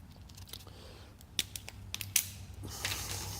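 Duralast 3/8-inch drive fine-tooth ratchet clicking in a few quick bursts of small sharp ticks, close but quiet against a faint background hum.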